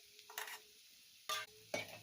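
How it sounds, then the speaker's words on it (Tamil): Curd being stirred into cooked rice for a packed lunch, heard as a few short wet scraping bursts of a spoon against the vessel, separated by quiet pauses, close and fairly soft. "இப்போ வந்து நம்ம தயிரை வந்து சாதத்தில் மிக்ஸ் பண்ணிக்கலாம்."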